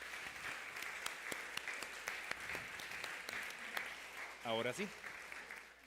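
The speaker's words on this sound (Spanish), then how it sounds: "quiero pedir un fuerte aplauso para don Luis," Scattered audience applause for panel speakers at a closing discussion, a dense hiss of clapping with a few sharper individual claps, ending as a voice speaks briefly near the end.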